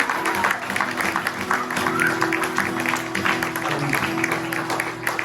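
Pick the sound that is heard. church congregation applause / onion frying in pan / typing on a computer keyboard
church congregation applause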